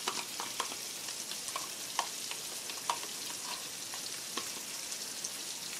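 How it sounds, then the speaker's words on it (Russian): Steady sizzle of onions and carrots frying in a pan with scattered crackles and a few soft stirring knocks, close and fairly quiet. "у нас лучок с морковью обжарились"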